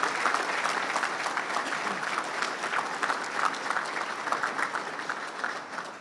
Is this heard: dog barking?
no